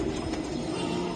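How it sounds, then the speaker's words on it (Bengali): Racing pigeons from a club loft coo softly nearby, a low, steady murmuring under faint background noise, with no one talking. "দেখেন কবুতর গুলা খুবই সুন্দর"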